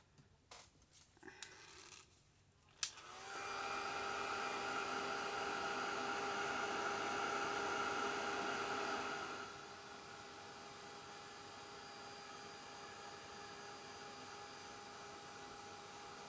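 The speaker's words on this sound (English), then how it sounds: "let me grind that off real quick." A grinder smooths off the surface of a grungy tag made with aged tape, running in one steady whirring burst of about six seconds before dropping to a low, faint hum.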